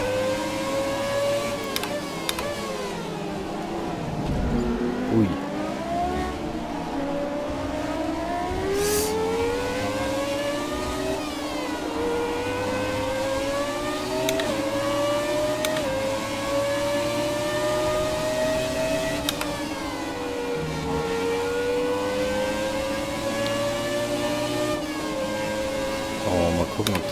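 F1 car engine in a retro racing video game, a buzzy high-pitched synthesized whine that climbs and drops repeatedly with each gear shift, steady and continuous throughout without talk.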